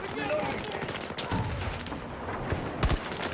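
Gunfire in the video game Battlefield 2042, heard as dense rattling bursts of shots over constant battle noise, with a sharper near volley toward the end.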